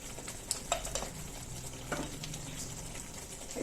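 Spices being stirred into hot oil in a cooking pan for pasta, a soft continuous sizzle with a few light spoon scrapes and clinks against the pan, fairly quiet and without voices.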